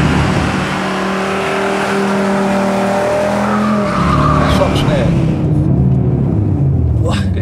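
A 2020 Audi RS Q3 Sportback with 400 PS drives hard, its engine droning under the cabin while tires squeal briefly under braking, with people talking inside throughout.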